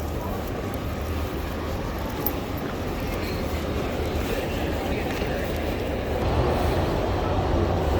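A metro train runs steadily, a continuous low rumbling roar heard from inside or beside the moving carriage, even in loudness for the whole stretch with no clear talk.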